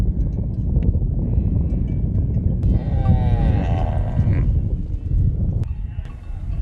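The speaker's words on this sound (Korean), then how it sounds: "소와 양, 당나귀 등 종류별로 무리를 지어 순서대로 대기 중입니다" Cattle, sheep and donkeys gathered in herds at a watering place in Magadi, Kenya, give loud moos and bleats over a dense, steady murmur of animals and hooves, with people talking nearby.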